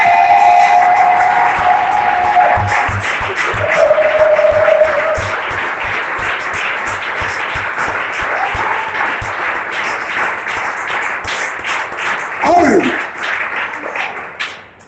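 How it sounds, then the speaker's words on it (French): A church congregation at a prayer service applauds and cheers loudly, with sustained rhythmic clapping and raised voices for about fifteen seconds, while a voice speaks over the crowd. "nous allons acclamer très fort le roi des rois"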